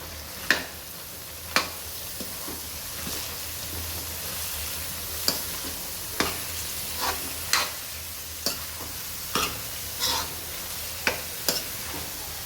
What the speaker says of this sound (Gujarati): તો હવે લીલું લસણ નાખીશું અંદર એને સરખું મિક્સ કરી લઈએ